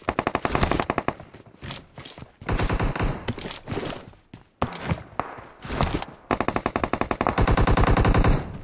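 Loud, rapid bursts of automatic M4 rifle fire in the mobile game BGMI, close up, coming in repeated volleys with short pauses between them and no voices over it.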